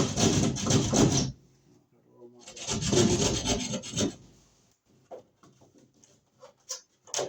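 Two bursts of rough rasping as notches are cut into wood to fit an electrical box, each lasting over a second, close and fairly loud, followed by a few quieter taps and scrapes.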